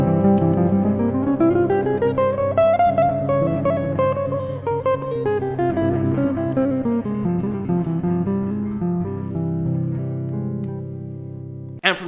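A harmonic minor scale played from the 4th over a dominant chord for a dominant flat 9 sound: a held chord under a clear, unhurried run of single notes rising then falling, close and alone, ending with a short knock.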